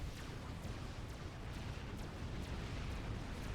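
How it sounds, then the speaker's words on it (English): The Megalith's main cannon fires in a 3v3 strategy video game match, sending rapid, evenly spaced booms through a dense, continuous roar of battle noise. "And of course the Megalith main cannon."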